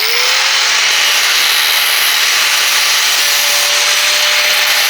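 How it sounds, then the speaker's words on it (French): An angle grinder fitted with an abrasive disc removes burrs from the guide bar of a Stihl MS500i chainsaw, giving a loud, continuous, high-pitched whine and grinding rasp that holds steady throughout, close up and with no talking. "Tu prends une disqueuse,"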